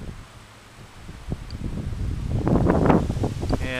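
Strong gusts of wind during a windstorm in Aberdeen rush across the microphone, building from a low rumble to louder buffeting with rustling trees, steady and close without speech.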